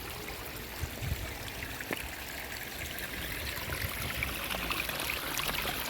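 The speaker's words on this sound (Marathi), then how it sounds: "असा एक हा कृत्रिम धबधबा आहे नैसर्गिक नाही" An artificial waterfall in a flower garden in Denmark rushes steadily, a broad continuous wash of falling water with faint splashy detail, swelling slightly toward the end, heard from fairly close with no voices.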